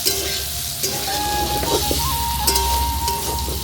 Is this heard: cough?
no